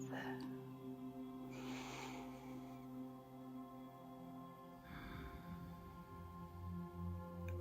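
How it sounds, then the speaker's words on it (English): Slow, audible Ujjayi breaths during a quiet yoga session, two soft hissing breath swells rising over a low steady hum of background music, close and gentle. "Concentrating on the breath. Building our Ujjayi breath."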